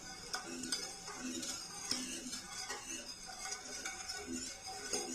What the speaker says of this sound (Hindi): अब इसे मुसलसल चम्मच चलाते हुए हम पकाएंगे